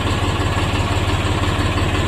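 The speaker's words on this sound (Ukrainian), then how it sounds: "Вивантажуємо тракторця Булат 244 Pro." A Bulat 244 Pro mini tractor engine idles with a steady, close, low chugging rumble throughout, unbroken and without talk.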